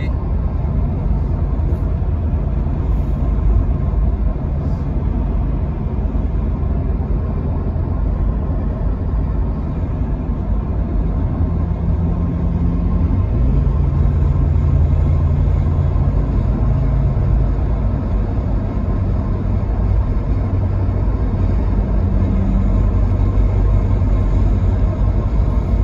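A Jeep Cherokee XJ with 61K miles runs steadily with a low, continuous engine rumble, close and fairly loud, with a slight shift in pitch partway through.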